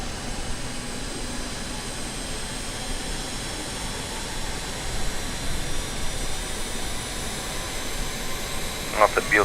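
RJ70 jet engines in Microsoft Flight Simulator, a steady broadband whine and roar that hums evenly throughout, with faint harmonic tones and a brief brighter burst near the end.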